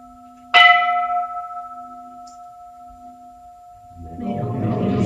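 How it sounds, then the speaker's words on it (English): A meditation bell is struck once at a Buddhist dharma talk, giving a clear bright strike with a long, steady ringing tone that slowly fades, then a low rumbling noise rises near the end. "May the sound of this bell ring throughout the universe"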